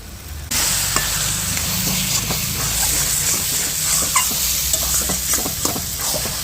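Taro leaves with eggplant, egg and sauce fry in a pan, a steady close sizzle broken by frequent spatula scrapes and taps as the mixture is stirred, starting abruptly after a brief quiet moment.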